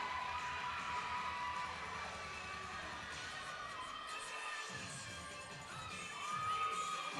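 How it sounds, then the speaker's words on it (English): A cheerleading championship crowd cheers wildly, a dense, sustained roar of shouts and screams that stays loud and steady throughout, with a brief dip partway through. "crowd is going wild."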